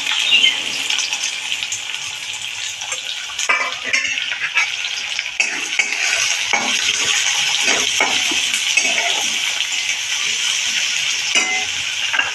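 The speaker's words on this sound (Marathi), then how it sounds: "आणि आता हा मी कांदा टाकणार आहे" Onion pieces go into hot oil in a pan with a little cumin, giving a steady, loud sizzle and frying crackle with occasional stirring scrapes and utensil clinks throughout, no voices.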